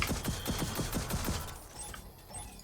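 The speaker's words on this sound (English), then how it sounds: "Missiles away." Missiles launching in rapid succession in Gears of War 4's Liberty Prime finale, a quick train of about eight whooshing thumps that fades into quieter ambience.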